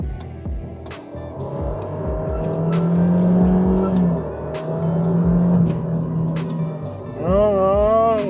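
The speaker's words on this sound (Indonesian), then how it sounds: "Mobil CVT dipaksain pakai pedal shift ya begini suaranya." A 2018 Honda Jazz RS with a CVT gearbox accelerates in S mode using paddle shifts, its engine droning loudly and steadily from inside the cabin before a rising, whining rev near the end.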